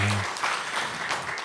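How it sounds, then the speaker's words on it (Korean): A church congregation gives a short burst of applause during a Korean Sunday worship service. Many hands clap in a brief wash as a low held tone fades out at the start. "우리 하나님께 감사의 박수 올려드리겠습니다."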